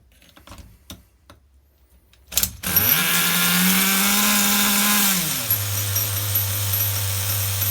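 A small nitro engine on an HPI RS4 F150 RC car, revved by hand at the carburetor on the bench: after a few clicks and taps it fires into a loud, sustained high rev, then drops to a lower steady drone.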